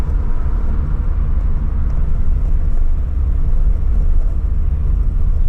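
Steady low road rumble and broadband wind noise fill the cabin of a Renault Twingo SCe 65 hp driving with its fabric roof open, a constant even roar with no talk.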